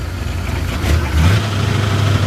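Old-school 1932 Ford Deluxe Model 18 roadster hot rod with straight, unmuffled exhaust, giving a steady low rumbling idle that swells briefly as the engine revs, close by with no talk.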